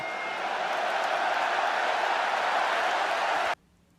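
A big arena crowd at a WWE Clash at the Castle wrestling main event roars in a loud, sustained wash of cheering and applause that cuts off abruptly near the end.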